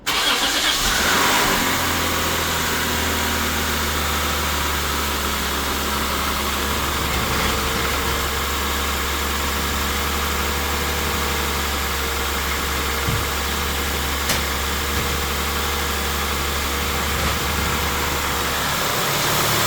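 A 2008 Lexus GS350 with a freshly replaced valve cover gasket and an oil leak cranks and starts, then settles into a steady, close idle that hums on for most of the clip.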